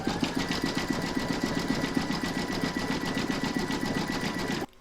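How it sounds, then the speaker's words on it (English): An embroidery sewing machine runs a zigzag stitch around a bell appliqué, a steady fast mechanical whirr with rapid needle rhythm that continues evenly for several seconds before stopping abruptly. "you're now going to stitch round number 9, and that's going to zigzag along here"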